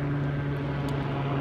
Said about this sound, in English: I'll wait till the plane goes by for sound.